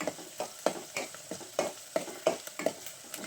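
Curry leaves and chana dal frying in oil for uppittu, a soft sizzle broken by a regular series of sharp scraping stirs against the pan, about two or three each second, close by.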